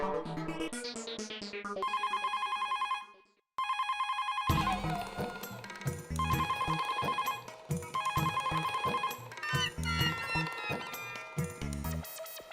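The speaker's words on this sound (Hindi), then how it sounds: "ये दया फोन क्यों नहीं उठा रही है?" A phone rings repeatedly with a tonal electronic pattern, interrupted by a brief gap, with busy musical sounds mixed in throughout.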